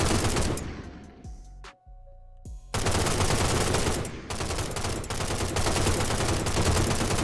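Rapid bursts of Minecraft gunfire crackle loudly, broken by a short pause with a ringing tone, then resume as sustained automatic fire.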